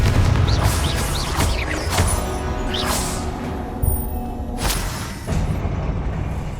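The Confringo explosion spell cast in Hogwarts Legacy, a video game, produces booming blasts and crackling magical bursts over continuous rumbling combat noise, with a few sharp impacts spread across the stretch.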